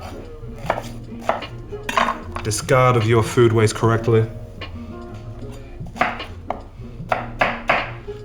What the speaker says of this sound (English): You see I'm chopping it up really roughly.